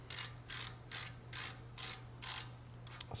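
A hand ratchet loosens the oil drain plug on a Harley-Davidson Softail Deluxe, clicking in six even close-up bursts of rapid pawl ticks, then a few quicker clicks, over a steady low hum.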